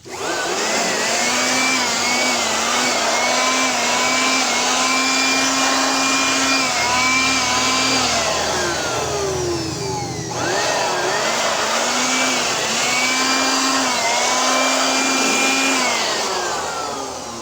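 An electric blower used during refrigerator repair whirs loudly and steadily, its pitch dipping and rising twice as it slows and spins back up.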